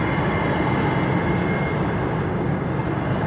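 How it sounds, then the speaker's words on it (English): Loud, steady rumbling roar of a train passing close by at a rail junction, continuous and unbroken with no voices. "This is a train."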